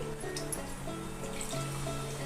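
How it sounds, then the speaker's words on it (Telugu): Water poured into a mixer-grinder jar to rinse out masala paste, a steady close trickle and slosh over a low background hum. "ఇదే మిక్సీ గిన్నెలో కొన్ని నీళ్ళు పోసి"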